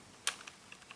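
Keys tapped on a computer keyboard while entering an npm install command for a Cypress plugin: one sharp, louder keystroke, then four or five softer, irregular clicks, close and fairly quiet, with no voices.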